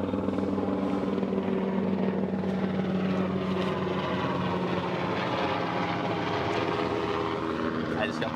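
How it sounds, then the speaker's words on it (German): A helicopter's steady rotor thump and engine whine drone continuously, fairly close and loud. "Es war ja schon kein normaler Helikopter"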